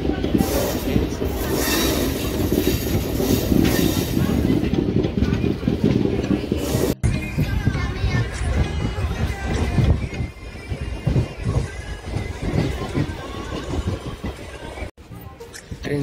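Train noise while passengers step off, a loud continuous rumble with wheel squeal that gradually eases, overlapping platform bustle and voices talking.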